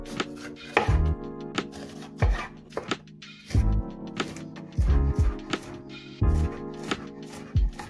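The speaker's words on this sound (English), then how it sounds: "I start by chopping my veggies." A knife chops sweet onion and pepper on a cutting board in short bursts of quick taps, separated by pauses, close up, with faint background music.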